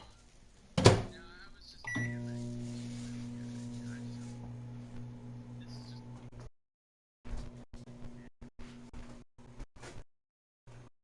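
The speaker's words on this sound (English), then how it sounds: "I can hear you heating up some kielbasa" A microwave oven heats kielbasa, opening with a sharp click and then a steady droning hum with a buzzing mechanical tone. It cuts out, then returns in broken bursts, heard at some distance.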